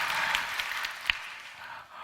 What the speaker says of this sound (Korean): 박수까지요? 확실히 쳐주세요